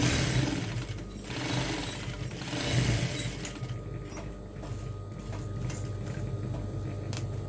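A sewing machine stitches fabric with a steady mechanical whir and patter that runs loud and close for the whole stretch, with no speech.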